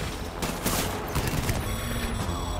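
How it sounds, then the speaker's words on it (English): A machine gun in the video game Death Stranding fires a rapid, close burst of rattling shots that fill the short moment before trailing off into a ringing tail. "Can you use this machine gun,"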